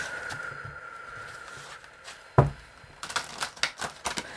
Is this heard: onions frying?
no